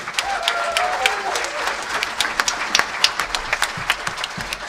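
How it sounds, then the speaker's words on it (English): Audience applause in a room at a fiddling championship closing ceremony, steady dense clapping with a few louder individual claps and a brief whistle, sustained throughout. "I would just like everyone in this room to give a huge round of applause to Ryan from Norway House"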